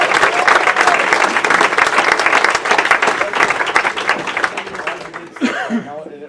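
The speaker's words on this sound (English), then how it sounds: "I think maybe they came to give you a round of applause." Audience applause at a school board meeting: steady, close clapping with scattered chuckles for about five seconds, dying away as a voice begins speaking.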